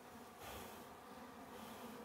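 Italian honey bees drone in a dense, continuous buzz at a hive heavy with honey, steady and fairly quiet with no voices.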